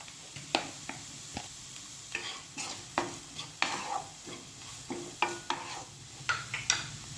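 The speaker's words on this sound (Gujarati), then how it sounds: "હવે આપણે આ બધા વેજીટેબલ્સને એકદમ કૂક નથી કરવાના, બસ થોડા ક્રન્ચી થાય ત્યાં સુધી એને આપણે કૂક કરી લેશું." Vegetables for a street-style manchow soup stir-fried in a hot pan: rapid, rhythmic spatula scrapes and clacks over a continuous sizzle, close and clear with no talking.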